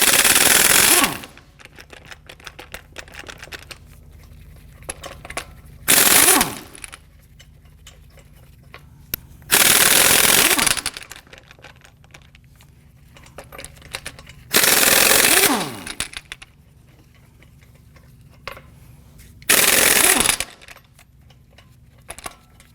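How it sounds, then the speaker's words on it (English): An impact wrench with a 22mm socket rattles off lug nuts on the front wheel of a 2015-2020 Ford F-150, five loud, separate hammering bursts with quiet gaps between them. "we're going to loosen and remove our lug nuts"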